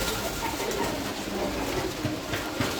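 Golden pigeons coo softly amid a busy, noisy background of rustling and low rumble, their calls faint and intermittent across the short stretch.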